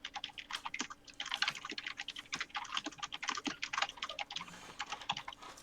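Fingers type rapidly on a computer keyboard, producing a dense, uneven patter of close key clicks with short pauses and a few heavier strokes, and no talking.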